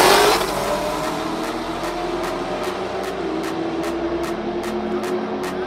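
A Cadillac at a no-prep drag race roars with a loud, sustained engine note that rises at launch and holds steady, with steady rhythmic pulses layered over the din and no talk.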